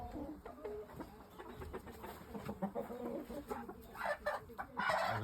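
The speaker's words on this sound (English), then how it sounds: "There's a nice hen there as well." A Shamo hen clucks nearby in a game bird pen, with repeated soft clucks and other fowl calling amid low background noise.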